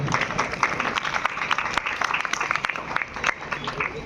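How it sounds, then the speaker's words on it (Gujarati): An audience at a certificate ceremony claps for honoured workers, a dense patter of applause close by with a voice speaking over it throughout. "તાળીઓના નાદ સાથે આપણે વધાવીએ આપણા કર્મયોગીઓને।"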